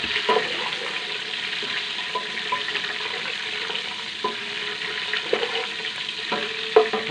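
Whole spices and a spoonful of garam masala frying in hot oil for a desi-style white chickpea and potato pulao, a steady soft sizzle with occasional scraping clicks of stirring, close and alone without talk.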